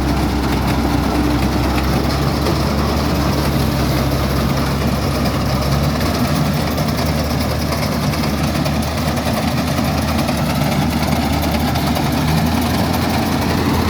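A 2012 Kubota DC60 combine harvester engine running steadily on test, a continuous heavy, rumbling idle with vibration, close and unbroken throughout, with no voices.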